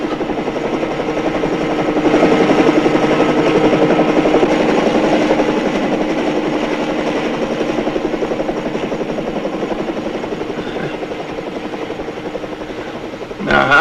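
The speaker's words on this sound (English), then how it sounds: "Helicopter." A helicopter drones overhead with a steady, throbbing rotor and engine hum that swells, then slowly fades over several seconds, with brief voices mixed in.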